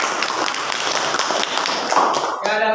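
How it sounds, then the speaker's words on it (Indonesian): Classroom applause from students during a teacher's lesson, a dense steady patter of clapping lasting throughout, with a voice starting to speak at the very end. "Oke, terima kasih, tepuk tangan."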